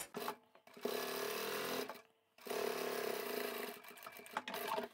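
A sewing machine stitches fabric close to the edge for a large duffle bag, running in quiet bursts with short pauses between, steady whirring runs alone without talking.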